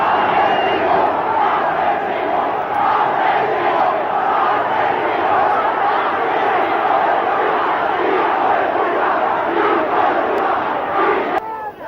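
Big angry crowd in Buenos Aires after Argentina's Falklands surrender, a dense, steady roar of shouting and chanting, loud and unbroken.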